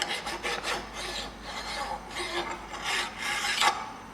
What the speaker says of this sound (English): One way to clean it is, which I usually do, is a aggressive file.